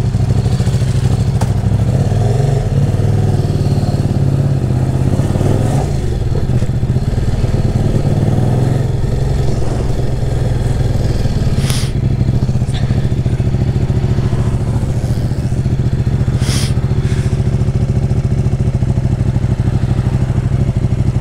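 A warm motorcycle engine starts and settles into a steady, loud idle, close by and continuous, with a faint clatter in the mix and no talking.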